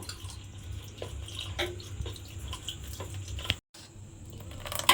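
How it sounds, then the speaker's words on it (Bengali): Water is poured into a semolina batter for dosa, a steady close trickling and splashing that runs for several seconds, breaks off briefly and then resumes, with no voices. "এবারে এর মধ্যে জল দেব দিয়ে একটা ব্যাটার তৈরি করে নেব"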